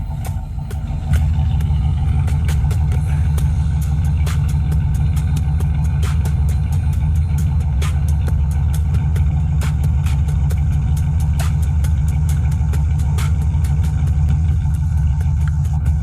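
A 1965 Pontiac Bonneville with a 421 V8 in perfect condition idles with a steady, deep, smooth rumble, close and continuous, with faint ticking on top and no talk.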